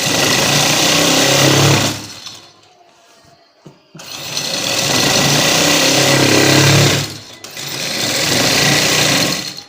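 Sewing machine stitching along the edge of a trouser cuff, running in two long loud bursts with a short pause near the two-second mark and a brief break around seven seconds.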